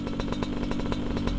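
A Yamaha RX King motorcycle idles close by after repair, its two-stroke engine putting out a rapid, even, rattling pulse with no voices over it.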